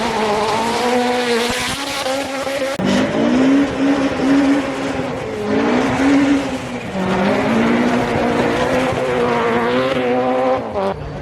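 A BMW rally car on a snowy rally stage revs hard through a hairpin, the loud engine note rising and falling through gear changes close by, with brief tyre scrabble and no talk.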